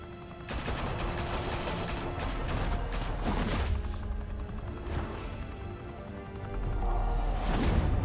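Heavy automatic gunfire in a Telltale Batman game, loud sustained volleys with sharp cracks and debris crashes, surging in waves with brief lulls between bursts.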